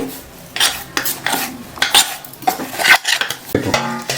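A spoon scrapes and clinks against a bowl as flaxseed spice powder and a second ground chilli powder are mixed together, a run of irregular close metallic strokes with no talk.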